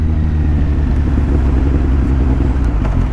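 A Kawasaki Z800 motorcycle and an AMG car rumble loudly on the road, a deep continuous engine drone heard up close without speech.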